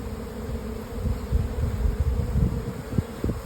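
Honeybees buzz in a low, irregular drone during a hive inspection, close by and moderately loud, with brief rising bursts as insects move near the open colony.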